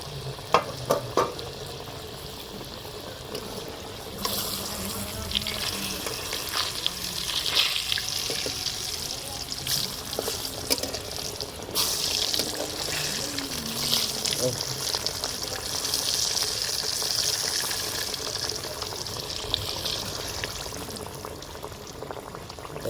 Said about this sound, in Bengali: এরকম কড়া তেলে ভাজা হবে লাউগুলো, আর ভেতর দিয়ে সেদ্ধ হয়ে যাবে।